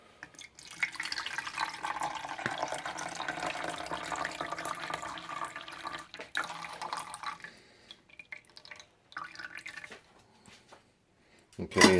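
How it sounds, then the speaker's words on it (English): Water and melted ice pour out of a Yeti 30 oz Rambler tumbler in a steady broadband splash lasting several seconds, then trickle and drip in short bursts before a final louder clunk. "we'll go ahead and empty these out and see how much water's actually melted off of these"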